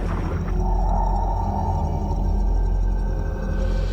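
A gannet whale from an imagined future ice-age ocean calls loudly underwater in a long, wavering moan over a deep, constant rumble, lasting several seconds without any speech.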